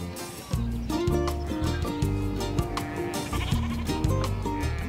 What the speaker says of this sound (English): These rare four-horned sheep have been back for a few years.